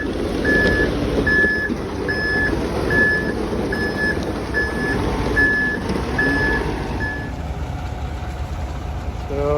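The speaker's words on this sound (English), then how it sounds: "So that's the first truck. Got 2 more trucks in queue over here." A concrete truck backs up at a house foundation wall pour, its reversing alarm beeping in a steady even rhythm about nine times over a loud, rumbling diesel engine until the beeping stops and the engine keeps running.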